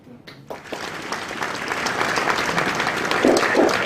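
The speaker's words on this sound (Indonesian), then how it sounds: "kepada para hadirin mohon memberikan aplaus" An audience claps at a formal Indonesian ministry event after the signing of a joint decree on school uniforms and attributes. Steady applause builds over a few seconds and grows fuller toward the end, with no speech over it.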